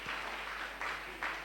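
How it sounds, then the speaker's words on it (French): Church congregation applauding during a service, a brief burst of clapping in a few surging waves, moderately distant. "Acclamons pour la parole de Dieu."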